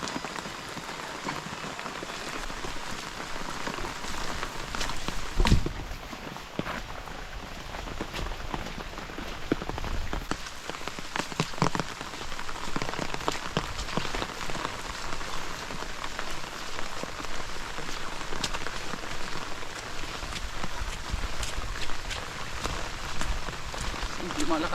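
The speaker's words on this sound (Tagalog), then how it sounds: "Malakas na naman ang ulan" Heavy rain pours steadily onto a surface, a dense continuous hiss with scattered drops and faint background activity throughout.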